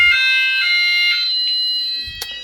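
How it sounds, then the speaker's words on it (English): A house fire alarm system sounds its full alarm, a loud steady electronic tone with sharp harmonic stacks that pulses in short bursts, then a brief thump near the end. "then it's going to full alarm"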